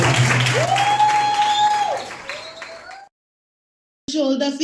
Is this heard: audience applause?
yes